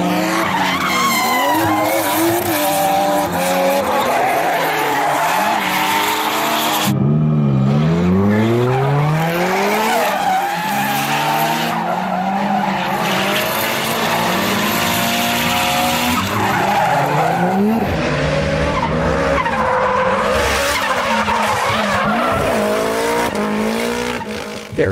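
Drift cars in close tandem runs with reverse entries and wall taps, tires squealing and skidding loudly and continuously with long wailing screeches and engine roar, briefly dipping before resuming at full intensity.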